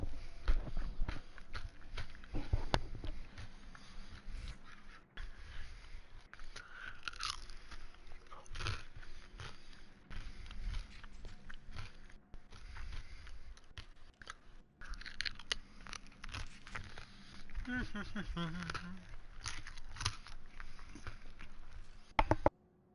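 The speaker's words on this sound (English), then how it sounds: "I'm sorry if I'm crunching this really loud, but cheese wontons are fantastic" Close, loud crunching and chewing of crispy cheese wontons, with repeated bites and irregular mouth noises going on throughout.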